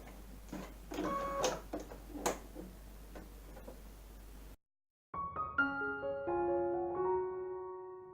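Sewing machine fitted with an appliqué foot stitching delicate fabric appliqué, heard as quiet ticking mechanical stitching bursts, then a short gap followed by brief tonal beeps or whirs from the machine.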